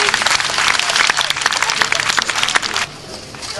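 An audience at a Roman gallop equestrian festival in Eauze applauds, with bright, dense clapping and sharp individual claps standing out. The applause thins abruptly near the end to a quieter background.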